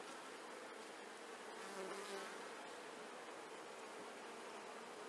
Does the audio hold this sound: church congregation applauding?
no